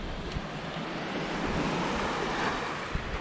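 Waves wash onto a small beach on Puerto Rico's south coast near the Guánica dry forest, a steady surf rush mixed with wind buffeting the microphone, with no voices.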